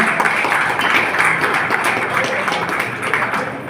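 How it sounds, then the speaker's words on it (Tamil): Audience at a retired officials' association meeting claps steadily for a few seconds, a dense, even patter of many hands in a hall. "அதுக்காக நாம் நல்ல ஒரு கரகோஷம் கட்டுகிறோம்."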